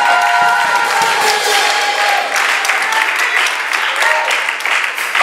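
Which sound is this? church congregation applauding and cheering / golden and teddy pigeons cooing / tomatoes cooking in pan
church congregation applauding and cheering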